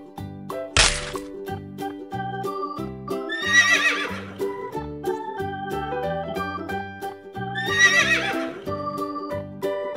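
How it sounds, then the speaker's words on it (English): A horse neighs twice, loud shrill whinnies about four seconds apart, set over a bouncy musical backing with a sharp crack near the start. "Horse."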